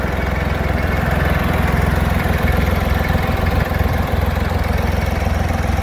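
A Valtra A950R tractor engine idles steadily nearby outdoors, a continuous low rumbling drone with even throbbing and no speech over it.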